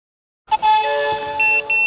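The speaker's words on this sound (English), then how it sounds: "There we go folks, we're getting the alarm." An INKBIRD IBT-26S wireless meat thermometer sounds its alarm during a tri tip cook on a Weber kettle: a run of bright electronic tones and chirps that starts suddenly after silence and stays close and fairly loud.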